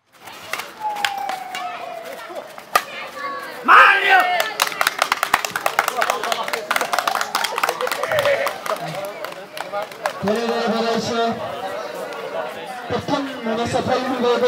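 Applause at a men's doubles badminton tournament hosted by a local club: a dense burst of many hands clapping rises amid crowd chatter, then fades as a voice speaks over murmuring.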